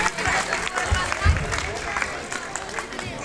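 An audience at a village Dr. Bhimrao Ambedkar Jayanti celebration claps to welcome the organisers. The applause is scattered and moderately loud, with thumps and crowd noise, and a man's speech runs over it.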